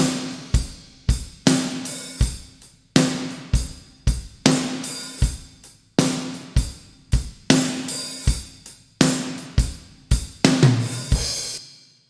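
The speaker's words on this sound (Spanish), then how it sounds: "Y ahora le sumo la compresión paralela" Full drum kit with room ambience and parallel compression, playing a steady groove of strong kick and snare hits with ringing cymbals, loud and punchy, no voices.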